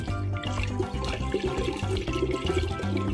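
A water and molasses mixture poured onto water kefir grains, a close, continuous splashing pour with a low rumbling undertone that carries on steadily throughout, no talking.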